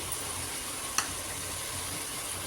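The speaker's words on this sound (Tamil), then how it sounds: "மஞ்சத்தூள், உப்பு அப்படியே போட்டு கிண்டி விட்டுறணும்." Spices, salt and chilli being stirred into a simmering chickpea kulambu in a pressure cooker, a steady soft sizzle and bubbling with one sharp scrape of the spoon partway through.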